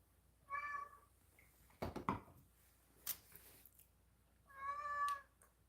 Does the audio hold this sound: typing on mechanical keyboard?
no